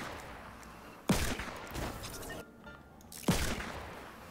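Gunfire in the Fortnite video game: two loud, sharp bursts of shots a couple of seconds apart, each trailing into a rough, noisy tail.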